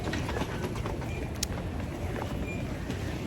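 An airport plane train pulling away on its rails with a loud, continuous rumble and faint rhythmic clicking, heard from inside the car with no talking.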